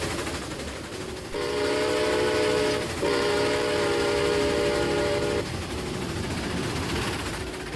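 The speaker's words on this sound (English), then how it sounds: "Now, there's my train. Crossing over." A video game train rumbles past with a loud, sustained horn blast broken by a short pause, then fades back to steady rolling noise.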